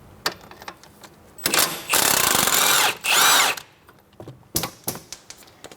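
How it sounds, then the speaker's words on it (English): Power tool driving a 21mm socket to remove the strut-to-knuckle bolts on a 2007-2012 Nissan Altima during CV axle replacement: two loud, sustained whirring bursts about a second each, framed by short metallic clicks and clanks, no talking. "21mm socket, we are going to remove the 2 strut to knuckle bolts."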